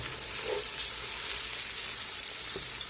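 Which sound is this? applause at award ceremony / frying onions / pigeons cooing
frying onions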